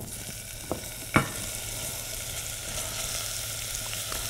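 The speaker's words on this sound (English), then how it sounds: "So I can hear my oil sizzling a little bit." Oil sizzles quietly in a pan before vegetables go in, a steady soft crackling hiss, with a couple of brief clinks from utensils early on.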